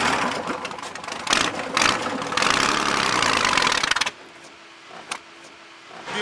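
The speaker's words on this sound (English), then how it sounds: "a London cab with a V6 Ford engine for extra horsepower" A London cab's V6 Ford engine cranks and catches with a loud mechanical burst, a few clunks, then settles abruptly into a quieter, steady idle.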